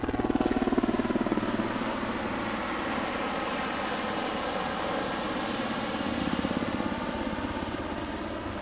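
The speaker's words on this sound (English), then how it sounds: "Now the helicopter's reversing for a tight backwards 360-degree turn." A helicopter performing at an evening airshow in Leszno makes a steady, loud engine and rotor roar with a faint rhythmic beat, holding close and constant for the full stretch.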